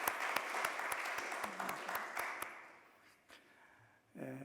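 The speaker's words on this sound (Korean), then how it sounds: "우리 미니 성가대 박수로 한번 감사하고 격려할까요?" A church congregation at a Sunday service applauds a small choir with a short round of sharp, distinct hand claps that thin out and fade after a few seconds, leaving quiet room tone and a brief voice at the end.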